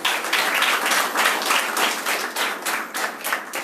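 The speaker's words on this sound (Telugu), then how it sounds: "యేసయ్యకు చప్పట్లు కొట్టండి" A church congregation at a Baptist thanksgiving service claps for Jesus, a dense, steady wash of applause from many hands that stays loud and continuous from start to finish.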